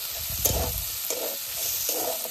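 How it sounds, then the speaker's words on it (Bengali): Green peas are stirred and fried in a pan with boiled potato and eggplant for a drumstick-flower dish, giving a soft continuous sizzle broken by a few scraping stirs, with no speech. "মটরশুঁটি দিয়ে এইভাবে নেড়ে ছেড়ে নেবেন।"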